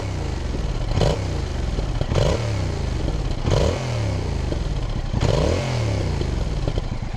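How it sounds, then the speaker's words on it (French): A 2021 Yamaha MT-07 motorcycle engine runs loudly close by, its exhaust barking through four or five sharp revs that swell and fall away over a rumbling idle, with no talking. "on remet le contact, on écoute un petit peu le son de cet échappement"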